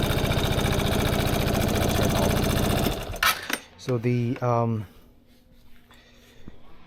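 Piaggio Fly 150 3V ie scooter engine, warmed up, idling loud and close with a steady rapid chug for about three seconds, then cutting away as someone speaks briefly over a faint low hum.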